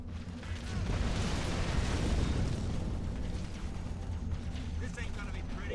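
Heavy explosions and battlefield booms in the Halo Wars video game, a sustained rumbling barrage of grenade blasts with low, rolling thunder that swells and lingers, mixed under faint radio-style voices.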